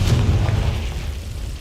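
A Confringo spell explosion in a Harry Potter video game lands as one short, deep, booming blast that rumbles out and fades over about a second and a half, loud and close, with no talking.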